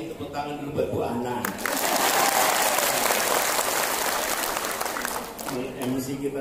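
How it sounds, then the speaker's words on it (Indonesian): Audience applause at an Indonesian women's coordination meeting in a hall, a steady wash of many hands clapping that swells, holds loudly for several seconds, then tapers, with voices and cheers mixed in. "tepuk tangan dulu buat Bu Ana"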